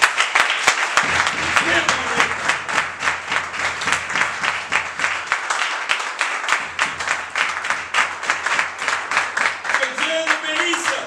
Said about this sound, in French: Si tu te crois dans la joie, tu peux applaudir fort.